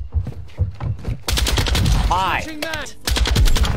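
Rapid bursts of Lachmann 762 rifle fire in the shooter game MW2, loud and close, with sharp repeated shots in clusters, an excited voice talking over them, and a whooshing sweep in the middle.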